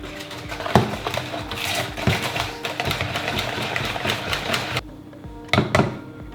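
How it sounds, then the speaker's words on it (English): Gluten-free batter of glutinous rice flour, sugar and baking powder whisked in a bowl, a steady rapid clatter of whisk wires with louder knocks against the bowl, close and continuous before a brief pause and a few final taps. "we're going to whisk that up until we've got no clumps"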